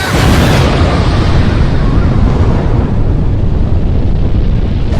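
A huge explosion-magic blast from an anime roars out at full loudness, a dense, sustained boom and rumble that fills the whole stretch without pause.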